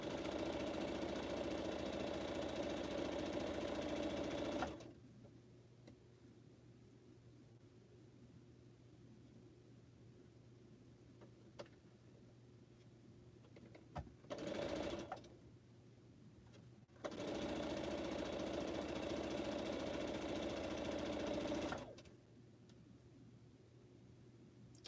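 A sewing machine runs in steady, whirring stretches while pineapple quilt blocks are stitched, two long runs and a short burst between them with quiet pauses, heard near and fairly even.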